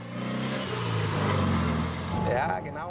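A vintage Porsche coupe's 75-horsepower 4-cylinder boxer engine, boosted by a Judson compressor, rumbles and revs up nearby with a steady growl. A voice talks over it, and the engine sound fades near the end.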